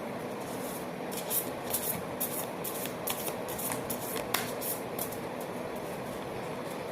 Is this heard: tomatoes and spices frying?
no